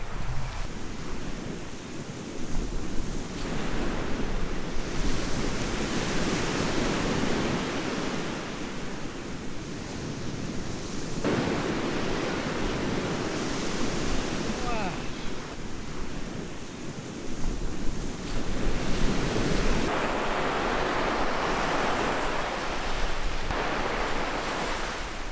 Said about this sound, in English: we have not seen a single other area where we can walk to the beach